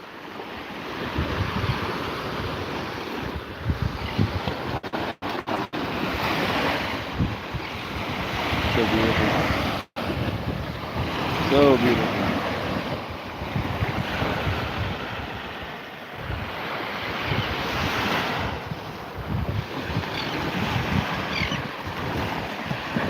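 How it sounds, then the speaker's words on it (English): Ocean waves wash onto a beach with steady wind buffeting the microphone, and a person speaks briefly over the surf. "I haven't touched this ocean water in a long time."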